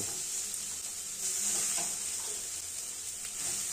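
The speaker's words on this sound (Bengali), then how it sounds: "শিম এবং বেগুন কিছুটা ভাজা হয়ে গেলে এবার তাতে আমরা বাঁধাকপি দিয়ে দেব" Steady sizzling of beans, eggplant and cabbage frying in a pan, with occasional scraping and stirring sounds, close and continuous, no voices.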